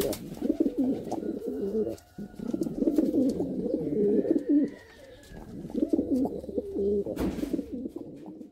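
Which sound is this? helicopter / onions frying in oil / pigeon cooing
pigeon cooing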